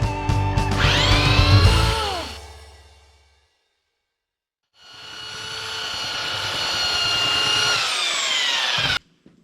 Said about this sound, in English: So now I'll take the belt sander, clean it up, putty it